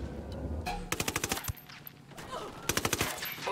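Automatic rifle fire from a Ghost Recon mission in Bolivia rings out in two rapid bursts of sharp, evenly spaced shots separated by a short pause, loud and close with no talking.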